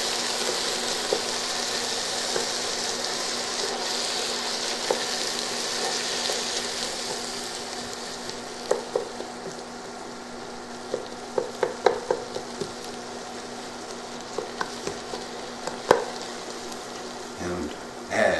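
Chicken for bolognese browns in a pan with a soft, steady sizzle, punctuated by scattered clicks and scrapes of stirring, while someone talks over it at moderate distance.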